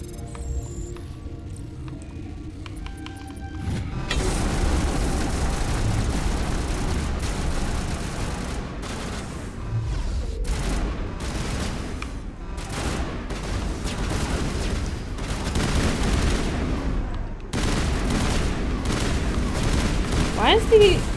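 Enemy gunfire in the Mass Effect video game, dense overlapping bursts and rattling shots with booming impacts over a steady rumble, continuous and loud after the opening seconds.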